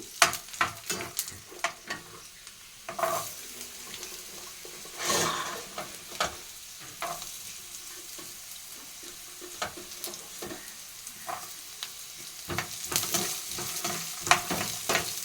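Vegetables frying in a pan with cumin and garlic, a constant sizzle broken by repeated scraping strokes of a spoon stirring, with louder clatter toward the end.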